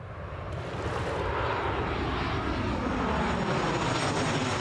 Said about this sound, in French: Les avions de vacanciers sont autorisés à atterrir juste derrière la plage, jusque tard dans la nuit